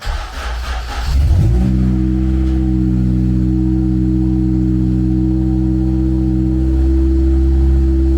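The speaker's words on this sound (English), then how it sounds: "it was rising in the revs because obviously I have nothing up here hooked up" A Honda K20 engine swapped into an EG Civic cranks, catches and settles into a loud, steady high idle that holds without letting up, with nothing hooked up up top.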